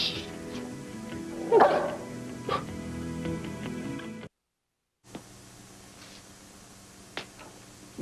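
Dog with puppies giving a few short whimpers and yips amid indoor room sound, faint and scattered, broken by a brief silent gap.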